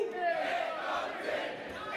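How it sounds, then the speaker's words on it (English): A wrestling crowd roars and chants together at a live match, a distant, sustained wash of many voices. "Crowd asking for one more"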